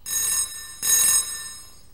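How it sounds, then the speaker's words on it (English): A picture phone rings in a cartoon, sounding two bright electronic rings close and loud, each about half a second long with a short gap, the second fading away afterward. "Oh, hey, someone's calling on the picture phone."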